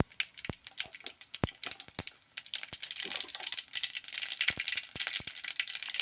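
Mustard seeds crackle and pop in hot oil, sharp irregular snaps over a continuous sizzling hiss that thickens toward the end, close and clear with no talking.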